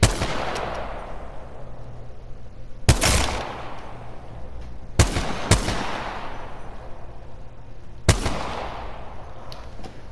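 Gunfire in the video game Apex Legends: four sharp, loud shots at uneven intervals, two of them close together, each ringing out over a steady low rumble of background game noise. No voices are heard.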